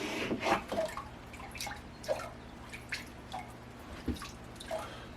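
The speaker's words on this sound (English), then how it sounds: "And then we'll go in and give it a rinse." Zinc-plated parts from a Mercedes W109/108 being rinsed in water, with soft drips, splashes and trickles coming in irregular bursts close by, over a steady low hum in a quiet workshop.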